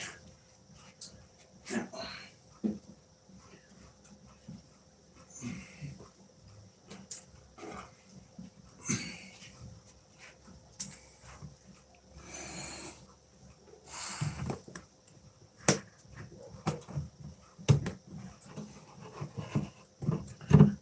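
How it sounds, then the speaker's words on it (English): Neighbors' dogs left outside, barking and panting at a distance in quick scattered bursts, with faint rustling and a voice occasionally audible over the low background. "it sounds like the neighbors left their dogs outside again"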